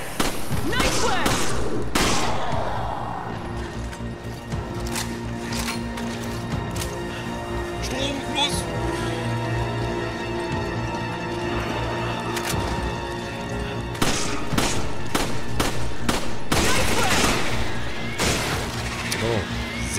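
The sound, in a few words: gunfire in video game Resident Evil 5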